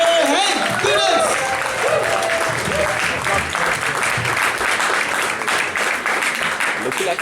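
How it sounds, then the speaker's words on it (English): Audience at an evening comedy show at a party center in Utrecht claps steadily and loudly throughout, with some whoops and cheering at the start. "So start clapping those hands"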